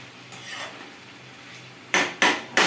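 Fried potatoes being stirred in a cooking pan over low heat, with a faint background hiss followed by three sharp, loud metallic scrapes and knocks of a utensil against the pan in quick succession.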